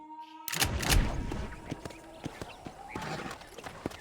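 A horse's hooves clip-clop in the Western video game Red Dead Redemption, with a steady trotting rhythm of distinct hoof strikes after a brief quiet start, moderately close with a faint ambient background.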